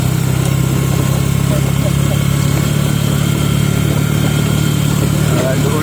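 A heavily loaded motorcycle engine braking, giving a steady, close mechanical drone that holds throughout while people talk over it.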